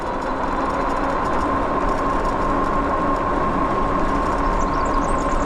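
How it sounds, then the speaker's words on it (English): A Nakto Folding Ox e-bike riding on pedal assist 5, its motor giving a steady close hum with a constant tone under dense rolling and wind noise, with no break throughout. "Now the motor really kicked in."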